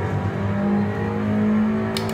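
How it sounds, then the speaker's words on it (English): A race car at full throttle on the Nürburgring Nordschleife, its engine drone loud and steady from on board, holding a sustained tone through a dip in the track. "absolutely full throttle as we go down through the dip"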